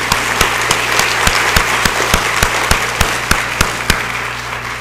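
Audience at a graduation ceremony applauding a kindergarten graduate, a steady wash of crowd clapping with a few sharp, close, evenly spaced claps standing out.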